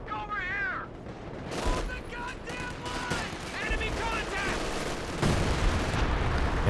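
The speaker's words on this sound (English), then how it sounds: "It looks like major artillery destroying the building." Dense artillery and gunfire rumble in Company of Heroes 2 as a building is destroyed, steady booming and crackling battle noise under continuous commentary.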